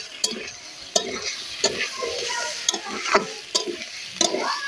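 Previously fried wild yam and potatoes are stirred in a pan, with rhythmic spatula scrapes about once a second over a continuous close sizzle and no speech.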